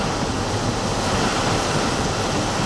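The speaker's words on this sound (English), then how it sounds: "Oh, listen to the wind." Wind rushes through an open car window during a storm, a loud, steady broadband roar and buffeting with no break, no voices.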